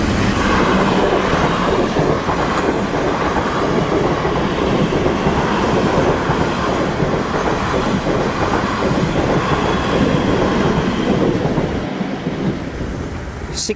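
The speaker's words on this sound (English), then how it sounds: "That was our third train so far, heading off to Weymouth." A train heading to Weymouth passes a level crossing in Southampton, a loud, close, continuous rumble with rhythmic clatter from the wheels that holds steady throughout and eases slightly at the end.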